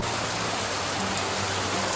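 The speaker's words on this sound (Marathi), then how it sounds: "पाऊस आणि वारा दोन्ही आहे" Steady rain and wind during a motorbike ride on the road from Panvel to Konkan, heard as dense continuous hiss with a low rumble, loud and unbroken throughout with no talk.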